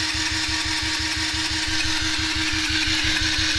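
A Yamaha TTR50 dirt bike's starter motor cranks steadily on power from a Foxpeed A10 battery jump starter, a fast, even, rhythmic whirring chug throughout, close and loud with no talking.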